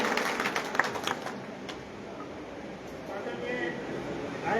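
Applause from a rally crowd at a Tiranga Yatra in Bhadra welcoming Ram Pratap Bissu, steady broadband clapping that fades slightly mid-way then swells again, with voices murmuring underneath.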